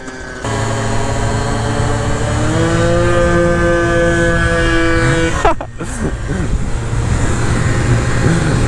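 A 50cc scooter engine drones steadily on a street, its pitch climbing as it accelerates toward top speed, loud and close, with a brief gusty disruption before the steady hum resumes.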